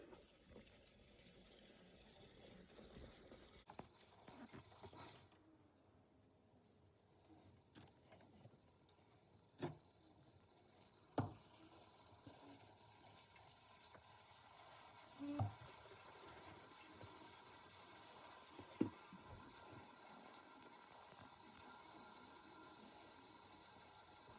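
Engine oil drains from a 2018 Yamaha 242x boat and begins sucking air, giving a faint, steady watery gurgle and trickle with a few sharp clicks and pops. No one speaks.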